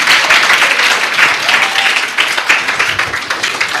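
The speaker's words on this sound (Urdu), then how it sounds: "سر کے لیے ایک بار زوردار تالیاں ہو جائے." An audience at a school welcome event for the month of Ramzan bursts into loud, dense applause, steady clapping throughout with faint crowd noise.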